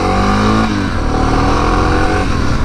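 Honda XR650 motorcycle revving hard and accelerating as the front wheel lifts, a loud, close, continuous engine roar with a rising pitch that dips and then builds again.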